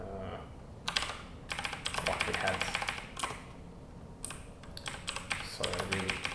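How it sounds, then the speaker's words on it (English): Computer keyboard typing in bursts of quick, clattering keystrokes with short pauses between, close up, with a brief stretch of speech over it. "So I really can't type or navigate with my keyboard today"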